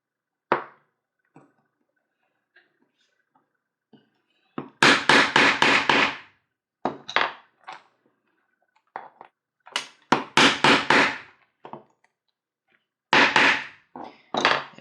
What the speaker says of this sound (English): and then get riveted on the inside. which will make it much stronger.